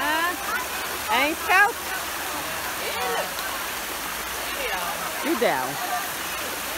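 A waterfall near Salvador, Brazil, a constant broad rushing roar of falling water with people talking over it at close range.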